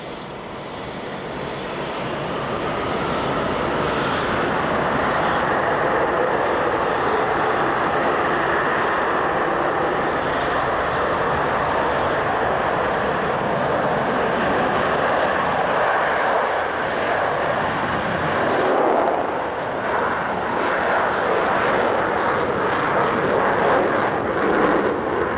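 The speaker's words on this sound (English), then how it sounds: "Concorde prepares to return empty to London" A Concorde airliner departs with its engines roaring, a powerful broad jet noise that swells over the first seconds and then holds loud and sustained, shifting slightly toward the end.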